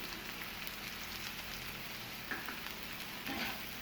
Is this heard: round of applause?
no